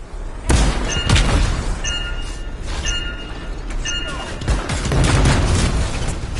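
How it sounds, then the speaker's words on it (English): Explosive detonation in the sci-fi action video game Anthem, with loud booming blasts and crackling debris bursting over a dense layered game soundscape, ringing tones threading through the impacts. "I think the explosion destabilized the foundry"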